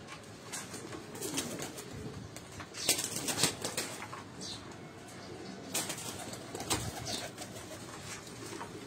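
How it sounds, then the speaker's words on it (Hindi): Chapra pigeons, a fancy breed, cooing in a loft with bursts of wing flapping, soft rustling and scattered bird calls throughout, fairly close and moderately loud. "तो दोस्तों इनमें एक कबूतर है, ये चपड़ा कबूतर आप देखे हैं।"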